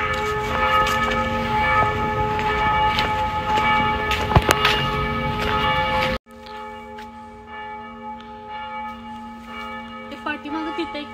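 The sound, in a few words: church bells ringing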